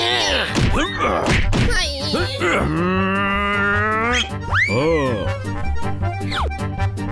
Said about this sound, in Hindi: इन्हें डंडों से मारो।